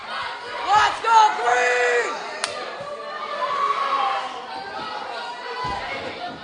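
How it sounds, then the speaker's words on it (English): A crowd at a junior Nitro sports event whoops and yells in loud bursts early on, then settles into a steadier roar of cheering, with voices calling out amid the noise. "The crowd is going crazy here."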